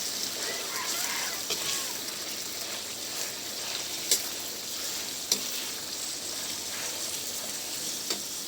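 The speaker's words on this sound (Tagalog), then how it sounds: "Stir fry lang na po natin" Marinated meat stir-frying in hot oil in a wok, a steady, moderately quiet sizzle broken by a few sharp clinks of a spatula against the pan, with no one speaking.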